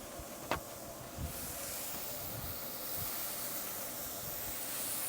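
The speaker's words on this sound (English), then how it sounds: "if this grill's ready, we're gonna throw them just straight on here. Nice sizzle." Burger patties sizzle on a hot outdoor grill with a steady, bright hiss that holds throughout, broken by a few soft knocks and thumps as the meat goes down.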